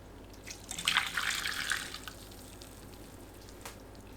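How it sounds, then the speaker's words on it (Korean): Boiled seasoning liquid poured through a strainer, a soft splashing trickle of liquid that swells for about a second and then thins out, close and fairly quiet, with no talk. "5분 후 체에 거릅니다."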